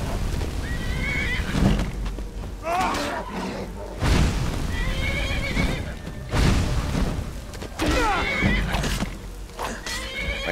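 A horse in the video game Skyrim neighs and whinnies repeatedly during an attack, with heavy thuds and crashes between the calls and a continuous dense game soundscape behind them.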